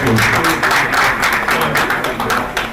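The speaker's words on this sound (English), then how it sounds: "A round of applause for him" Audience applause for a speaker at a live-streamed event: sustained, dense clapping from a crowd, steady and fairly loud throughout with no talking over it.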